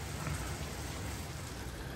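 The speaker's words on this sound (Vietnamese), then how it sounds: "Hôm nay hơi mưa, mưa lất phất nên phải mặc áo mưa" Light drizzling rain falls in misty Sapa, Vietnam, making a steady, dense patter that holds evenly throughout with no voices.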